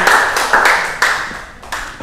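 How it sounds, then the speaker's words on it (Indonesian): A classroom of students clapping hands together in a few short bursts of sharp, close claps, each burst quickly fading before the next. "Ya, tepuk tangan"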